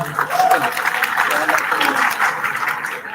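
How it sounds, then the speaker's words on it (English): A conference audience applauds at an afternoon plenary session, a few seconds of steady clapping with a voice briefly audible over it. "Let's give a big round of applause."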